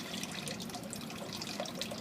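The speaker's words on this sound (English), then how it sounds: "Just let the water flow over it." Water running steadily over a gold pan during zircon panning, a soft continuous wash and trickle heard close up with no talking.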